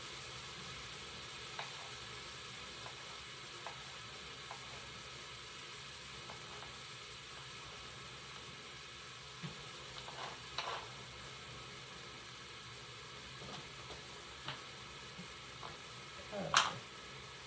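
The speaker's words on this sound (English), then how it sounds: "everything is sizzling, searing, cooking" Steady frying sizzle of mushrooms and sliced aromatics for hot and sour soup fills the whole stretch, with occasional crackles and a louder sharp pop near the end; a faint voice murmurs underneath.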